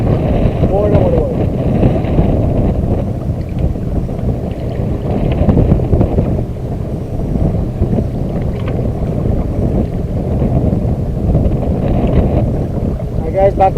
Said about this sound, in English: Wind just picked up. More than what it was.